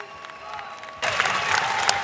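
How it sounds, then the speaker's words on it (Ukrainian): After a youth world title boxing bout, an arena crowd bursts into loud applause and cheering, with a ringside commentator's voice heard just before the ovation swells. "Абсолютно заслужені овації отримує зараз Назрі Рагімов."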